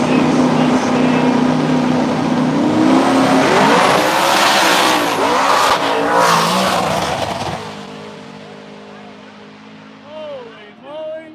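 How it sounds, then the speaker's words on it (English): An '89 Fox-body Mustang and an '86 Mustang launch side by side at a no-prep street drag race, loud roaring engines and tire noise fading as they pull away, with crowd voices and an announcer under it. "It's an 89 Fox versus an 86 Mustang"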